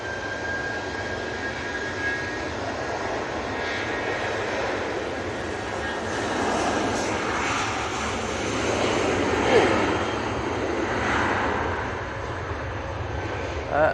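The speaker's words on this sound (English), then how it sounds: "That was a bit of a bumpy landing there from the Ryanair." A Ryanair passenger jet lands at Manchester Airport, its broad engine roar swelling and holding steady at moderate distance, with a voice speaking over it.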